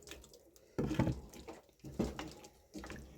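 Water is poured into a cooking pot for soup in a home kitchen. It comes in several splashy bursts separated by short pauses, close and fairly loud, and no one speaks.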